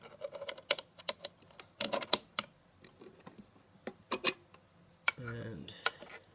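Keys on a CV keyboard connected to a drum synth are tapped in quick, irregular clicks, some in short clusters, with a brief tonal synth burst near the end.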